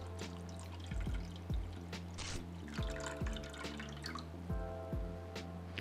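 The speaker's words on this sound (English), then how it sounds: "Gonna add the water." Water pours and splashes into a pot of caster sugar, with gurgling drops and a running trickle over several seconds.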